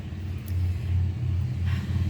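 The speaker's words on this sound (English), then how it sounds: "There goes a motorcycle down the road." A motorcycle passes along the road, a steady low rumble at moderate distance that swells slightly and holds for a couple of seconds, with no talking over it.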